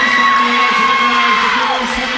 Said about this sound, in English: Jubilation here in the visiting crowd